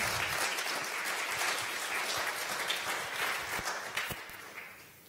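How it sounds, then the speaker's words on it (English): Audience applause at an innovation café event on women's contributions to climate change work: steady, moderately loud clapping from a room of people, with a few sharper individual claps standing out as it thins toward the end. "One big applause for Vera."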